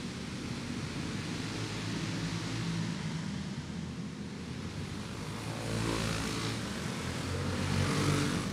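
A pack of Pro Clone Super Heavy race cars roars off at the start of a dirt-track race, a broad steady engine drone swelling louder toward the end.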